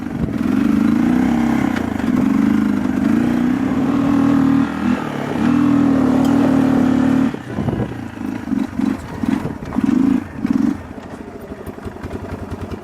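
A small ATV engine, not yet tuned to idle properly, idles with a steady drone, then sputters and surges in short revving bursts before settling back to a rough, uneven idle.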